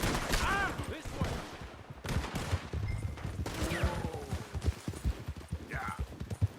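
Red Dead Redemption 2 gunfights crackle with scattered gunshots amid galloping hooves and a horse's whinny, while voices shout over the chaotic chase.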